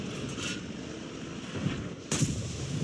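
A heavy STK-2 tank cannon blast in World of Tanks booms out, followed by a rumbling roar, then another sharp report near the end, loud and close.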